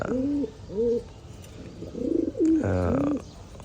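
Kept pigeons give about four deep, rolling coos in close succession, loud and near, with brief pauses between calls.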